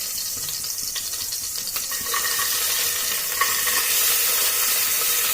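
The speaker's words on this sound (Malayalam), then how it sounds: "ഇനി നമുക്ക് ഈ വെജിറ്റബിൾസ് എല്ലാം ഈ എണ്ണയ്ക്കകത്തോട്ട് ഇട്ട് കൊടുക്കാം." Chopped carrots, beans, onion stems and ginger tipped into hot oil for a hot and sour chicken soup, a steady loud sizzle with scraping stirring strokes running throughout, no talk.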